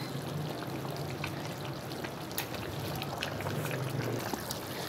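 Chicken biryani cooks on a high flame to dry off its water, giving a steady, dense bubbling and sizzling hiss close by, continuous throughout.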